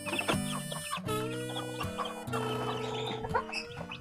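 Day-old broiler chicks in a brooding pen chirping and peeping continuously, many birds overlapping in a busy, steady chorus, close by with no speech.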